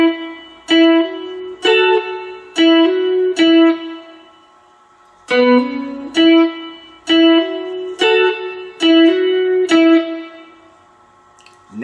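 Four-string cigar box guitar picks out a riff, a series of bright plucked note clusters in two phrases with a pause between, played alone and close.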